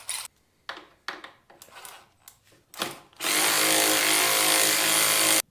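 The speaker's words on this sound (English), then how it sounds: "Now, remove the upper isolator to frame bolt." A power tool loosens the upper isolator-to-frame bolt on a Harley-Davidson Dyna, starting with a few short clicks and bursts before a loud, steady whir runs close up for a couple of seconds.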